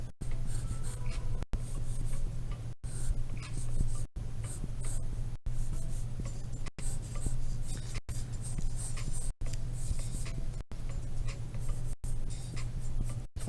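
A pencil sketches boxes on paper, making soft, scratchy strokes in steady repeated bursts, each separated by a brief pause, close and quiet.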